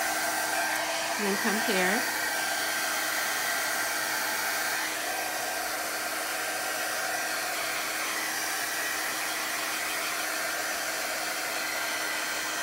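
A hair dryer blows steadily across a watercolor background on a journaling page, a loud continuous whoosh lasting the whole time, with a brief spoken remark near the start.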